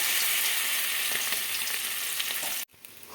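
Fish-oil fritters made with gram flour and rice flour sizzle steadily in hot oil, a dense close frying hiss that stops abruptly near the end, leaving only faint room sound.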